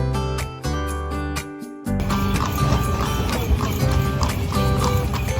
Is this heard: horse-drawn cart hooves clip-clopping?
yes